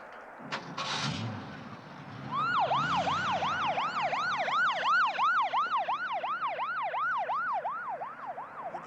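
An ambulance siren wails in a steady repeating rising-and-falling yelp, loud and near, starting after a short stretch of low rumble and carrying on to the end.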